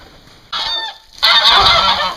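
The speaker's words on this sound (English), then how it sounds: "this farm happens to have a cage of pigeons." Caged pigeons on a farm call excitedly in two loud, close bursts of harsh, honking cries separated by a short pause.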